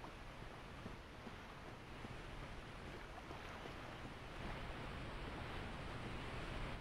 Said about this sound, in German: Wir gehen mal zu dem Wasserfall da hinten.